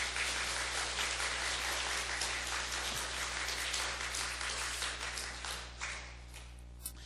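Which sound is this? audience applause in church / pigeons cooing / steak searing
audience applause in church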